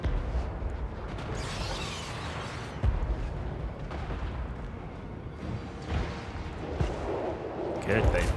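Cannon fire booms through a Total War: Warhammer 3 siege battle, with repeated deep blasts and rumbling impacts over a continuous din of combat, while someone talks over the action.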